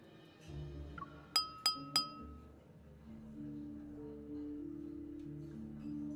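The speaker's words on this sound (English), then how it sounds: "the crisp sound of clinking glasses captures everyone's attention" Glasses clink three times in quick succession at a banquet in the game Love and Deepspace, sharp bright chimes standing out over a soft tonal music bed.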